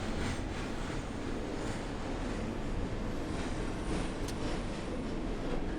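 R-28 RedBird subway train on the NYC Z line in the OpenBVE simulator game, accelerating with a loud, steady rumbling roar of motor and wheels that stays dense and constant throughout, with a brief squeal near the end.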